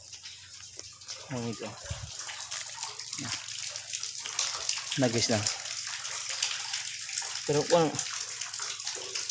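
Well water poured out on Canigao Island, a steady broadband splash and gush running through the whole stretch at moderate level, with several people talking over it.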